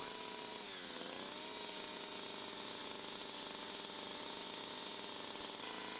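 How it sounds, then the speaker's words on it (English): A chainsaw runs steadily while its bar brushes the wood inside a cut groove, a continuous buzzing drone lasting several seconds at an even, moderate distance. "Tip the chainsaw slightly so that the bar is about 90 degrees to the wood you're brushing."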